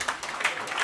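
Brief, steady clapping from an audience at a Ugandan internet governance forum, a soft patter of many hands heard from across a hall.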